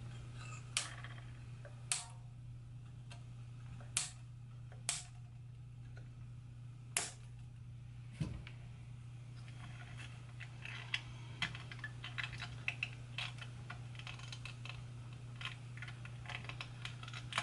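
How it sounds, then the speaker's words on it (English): Old strings being cut off the neck of a Harmony guitar. Sharp, isolated snips and clicks sound a few at a time over a quiet room with a steady low hum. "So I just now need to get these off the neck. I'm just going to cut them"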